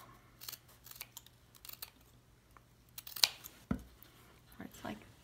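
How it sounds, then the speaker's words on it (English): Scissors snip the ends of a burlap bow, a few quiet, close cuts and rustles spread unevenly across a soft background. "And I can cut the ends like this"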